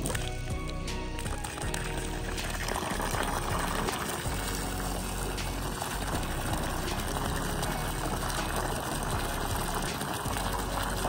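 Water gushes steadily from an opened fire hydrant during utility line work, a loud continuous rushing hiss close by with no talking.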